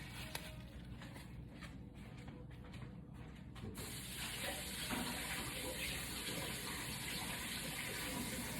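Tap water gushes steadily over yellow squash being rinsed in a kitchen sink, a continuous splashing flow that grows louder and fuller partway through, with no talking.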